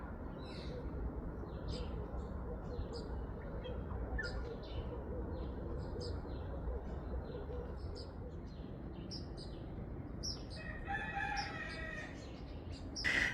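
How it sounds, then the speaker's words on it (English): Roosters crowing at dawn, repeated calls rising over a constant outdoor background with other birds chirping, moderately distant and continuous throughout. "The roosters call to the morning star"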